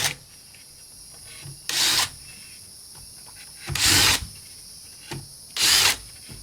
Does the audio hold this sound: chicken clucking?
no